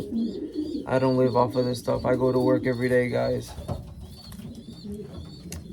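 Young racing pigeons under four months old coo in a loft, with a run of deep, close, throaty rolling calls partly under someone talking, then fading to quieter background murmurs.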